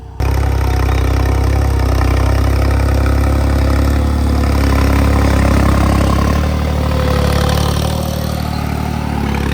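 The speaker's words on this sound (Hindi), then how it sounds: "तो ट्रैक्टर भी देखो लोड लेके चल रहा है।" A New Holland 3630 tractor engine runs under heavy load while pulling a seed drill sowing chickpeas deep in a field, a loud steady low diesel drone close by with no speech.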